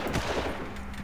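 Gunfire in the 2004 video game Far Cry, a few sharp single shots in quick succession over a low ambient game backdrop, loud and close.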